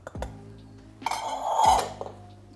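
A whisk scrapes and clinks against a bowl as choux pastry cream with egg yolks and cornstarch is mixed, with a few sharp metallic taps followed by a steadier swirling stretch up close.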